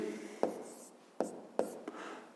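A pen writes on paper while a fifth-grade math exercise is worked out: three or four short, crisp strokes and taps, separated by pauses, quiet and close, with no speech over them.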